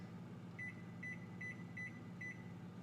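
Five evenly spaced electronic beeps sound from an oven timer being set while baking iced oatmeal cookies, clear tones over a quiet kitchen hum.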